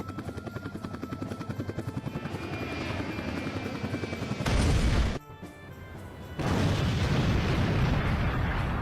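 Animated battle between Bombardiro Crocodilo and Bombombini Gusini: a steady, throbbing rotor-like drone builds, then two loud, roaring blasts, the first brief and cut off, the second long and sustained, fill the clip without any voices.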